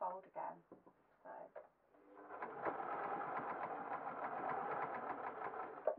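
A sewing machine runs steadily through patterned stretch jersey cotton, starting after a short stretch of talking and continuing as a dense, even, rapid stitching whir to the end.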